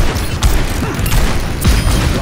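Bomb explosions in Overwatch 2's Junkenstein's Revenge event, a run of dull booms and rattling blasts thudding in irregular succession over a dense, noisy game soundscape.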